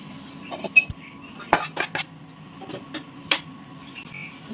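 Roasted semolina is tipped into curdled milk in a kitchen pan, with scattered metallic scraping and clinks from a spoon against the pan and a soft background hum, close by and without talk.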